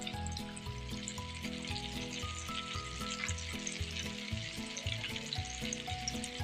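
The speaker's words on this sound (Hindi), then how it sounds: "अब इस तरीके से कोफ्ते हम डालते जाएंगे और तकरीबन 10 से 12 मिनट हमने लो फ्लेम पे, मीडियम टू लो फ्लेम पे इनको फ्राई होने देना है।" Nargisi koftas fry in oil over a medium-low flame, giving a steady, continuous sizzle that runs throughout beneath background music.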